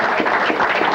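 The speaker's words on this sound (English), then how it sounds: "Round of applause for our speaker, Tom." A luncheon crowd at a broadcast pioneers event applauds its speaker, dense continuous clapping filling the room at close range for a brief moment without any speech.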